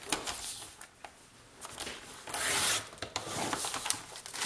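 Paper being cut for a wedding scrapbook folio, heard as quiet scraping and rubbing and then one brief, sharper slicing stroke, close by with no talking.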